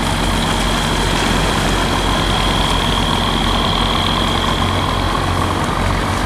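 A fishing boat's engine idles with a steady, loud, low drone and a constant hum as the boat returns to port on the Bình Thuận coast in Vietnam.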